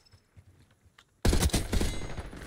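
Gunfire in Call of Duty: Black Ops 6 erupts after a quiet start, a sudden loud burst of rapid automatic shots and blasts that continues densely to the end.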